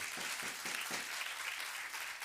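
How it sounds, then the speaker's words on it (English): A brief burst of audience applause at a Thanksgiving dinner event, steady clapping that carries on for a couple of seconds at moderate distance without any talk. "Clap for that."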